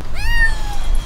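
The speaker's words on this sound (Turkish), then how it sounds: "Bu kedi sesi mi?" A single clear, drawn-out cat meow, loud and close, rising then slowly falling over a steady low background rumble.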